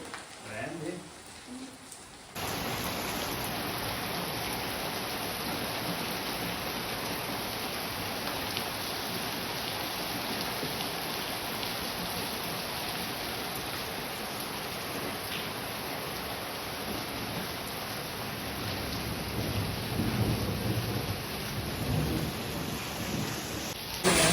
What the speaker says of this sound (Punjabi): ਹਾਂਜੀ ਮੀਂਹ ਤਾਂ ਪੈਣਾ ਹੀ ਸੀਗਾ